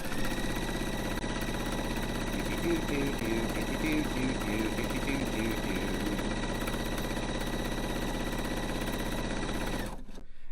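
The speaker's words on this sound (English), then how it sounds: "I am going to line up my foot, and I'm going to sew all the way across." A sewing machine stitches steadily across fabric, its fast rhythmic whirr running continuously and close for about ten seconds before stopping near the end.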